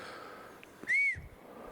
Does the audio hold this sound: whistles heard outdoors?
yes